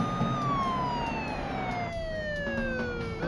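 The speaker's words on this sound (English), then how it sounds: "turned on the lights and the siren" A police car siren wails continuously, its pitch sliding steadily downward as it sweeps, fairly close and loud with road noise beneath.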